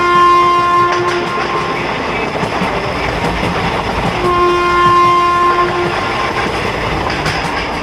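A cartoon train rumbles along with rhythmic clickety-clack on the rails, joined by two long sustained horn blasts, loud and close with no talk.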